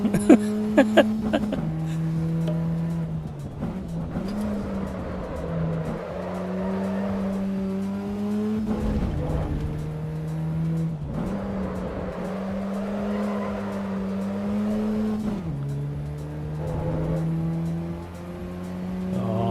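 A race car in the AC EVO racing video game, engine droning steadily as its front right tyre squeals through repeated corners, pitch rising and falling with each shift, loud and continuous.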